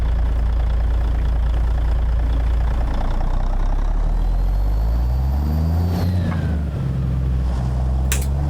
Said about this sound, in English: Love that idle on this thing.